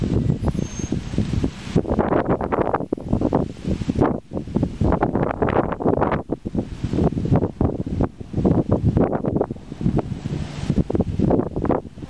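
Strong wind buffets the microphone outdoors at Oxford Airport, a loud continuous rumbling roar with gusty surges and rustling throughout, no talking.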